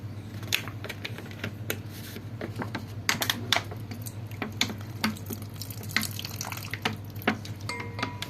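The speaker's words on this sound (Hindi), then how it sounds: "इसमें थोड़ा पानी" Water poured and splashing into a container to wash silver powder during a home refining process using copper, heard as close, irregular trickles and small splashes with scattered sharp clicks and no speech.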